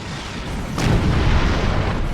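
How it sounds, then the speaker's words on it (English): Heavy weapons fire striking the time portal in Star Trek Online, a sudden booming blast over a loud rumbling sci-fi background. "The Heralds are firing on the portal!"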